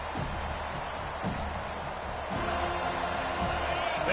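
A college football stadium crowd at a Seminoles game roars in a loud, continuous wash of cheering, with brief swells, while commentary runs over the noise.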